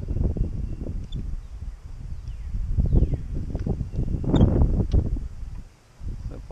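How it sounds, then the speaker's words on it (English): Wind blows outdoors during spring fly fishing, buffeting the microphone with low rumbling gusts that rise and fall almost continuously before a brief lull near the end. "there's a little bit of extra wind going on around out here"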